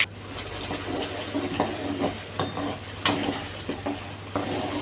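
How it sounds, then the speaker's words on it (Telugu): Tomato and onion paste for crab curry fries in a pan, bubbling and sizzling steadily while a spoon scrapes and stirs in irregular strokes, close up with no voices. "టమాటో అరగుల పేస్ట్ బాగా పచ్చి వాసన పోయేంత వరకు వేయించుకోవాలి"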